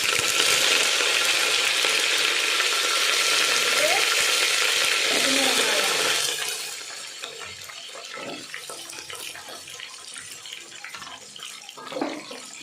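Mustard seeds spluttering in hot oil for a Tamil fish curry, a loud dense crackling sizzle for about six seconds that then drops to quieter, sparser popping and pan noises.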